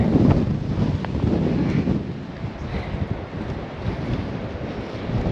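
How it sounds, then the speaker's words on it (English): Strong gusting wind buffets the microphone on a hillside walk at Winnats Pass in Castleton, a loud, continuous roar that swells and eases without any talk. "seeing me getting thrown all over the place by wind"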